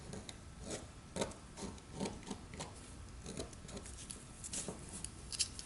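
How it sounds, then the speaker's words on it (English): A carving tool scrapes and rasps at a plaster block in a rhythmic series of short, gritty strokes, close and moderately loud, with no voices. "I am just carving and reducing that space"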